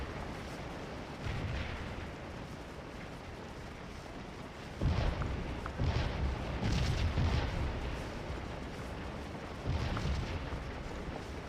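Civil War troops of Oliver Howard's XI Corps opening fire in a strategy game: a series of booming volleys at uneven intervals over a constant battlefield din, with no talking.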